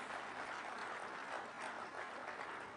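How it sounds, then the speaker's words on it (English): Brief, fairly faint applause from a conference audience at a devolution gathering, an even wash of clapping without breaks. "Let's give them a better round of applause."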